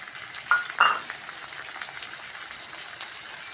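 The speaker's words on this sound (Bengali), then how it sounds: "পেঁয়াজের মধ্যে মাছের ডিমটাও দিয়ে দেবো।" Mrigal fish roe dropped into hot mustard oil with onions, frying with a soft steady sizzle and a couple of brief splatter bursts near the start, then settling into a low continuous crackle.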